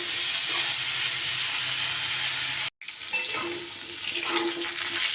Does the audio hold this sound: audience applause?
no